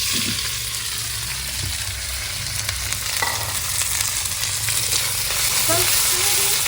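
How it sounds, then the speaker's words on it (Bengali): Chopped onions fry in hot oil with dried red chilies and whole cumin for a rural-style fish curry, giving a steady close sizzle and crackle with occasional stirring scrapes throughout. "পেঁয়াজটা আমার ভাজা হয়ে গেছে"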